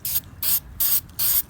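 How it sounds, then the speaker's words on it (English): Spray paint hissing from an aerosol can during paint work on a 1965 Scout 800 intake manifold for the Comanche 152ci engine, four short, loud bursts in an even rhythm with brief pauses between. "But I got my spray paint here."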